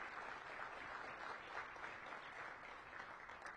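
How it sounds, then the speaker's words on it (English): A crowd at DC Mayor Bowser's downtown revitalization event applauds steadily for several seconds, a dense even patter of many hands at moderate distance with no voices on top. "So let's give them all a round of applause,"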